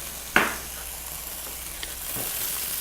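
Beef browning on high heat in a pan for stroganoff gives a sharp burst of sizzle, then a steady low frying hiss, with a fainter crackle near the end.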